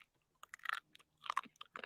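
Someone crunching on a salted raw food straight from the hand, several crisp, close bites and chews in short irregular bursts separated by near silence, quiet and intimate, no talking.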